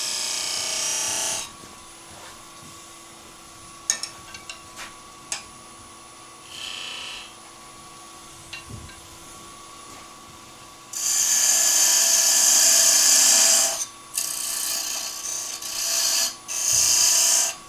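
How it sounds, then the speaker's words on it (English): A woodturning lathe tool cleans up a V cut on a wooden finial, giving bursts of close, steady scraping and rasping with short pauses, the longest stretch in the second half. "just clean up this other V cut"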